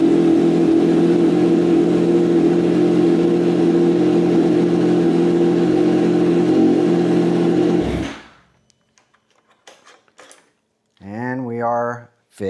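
A car engine runs steadily with the clutch pulled in, a loud constant droning hum for about eight seconds before cutting out abruptly, followed by quiet clicks and then a person talking.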